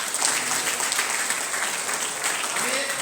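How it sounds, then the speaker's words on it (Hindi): Strong applause from the audience at a Birsa Munda birth anniversary event held by a Ranchi association, a continuous, fairly even wash of clapping with some murmuring underneath. "उसके लिए जोरदार तालियां"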